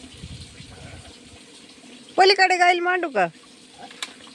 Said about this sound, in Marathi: हौदातून आता इथं पाणी पड राहिलेलं आहे